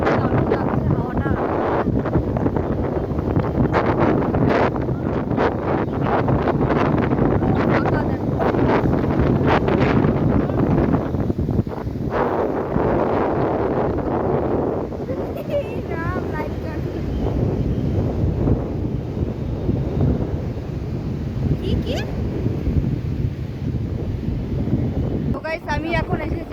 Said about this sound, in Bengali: আমি এখন এসেছি সমুদ্রে, এত সুন্দর হাওয়া